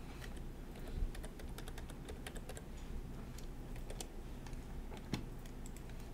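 Computer keyboard typing during video editing work, a faint stream of quick, irregular key clicks with a few slightly louder taps, close by and alone.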